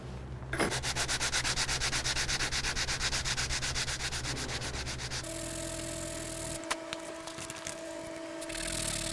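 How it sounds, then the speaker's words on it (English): Close, steady sanding of a wooden two-piece takedown selfbow, a continuous rasping rub that shifts in tone partway through as the stroke changes. "So I've got it sanded down, it's really slick."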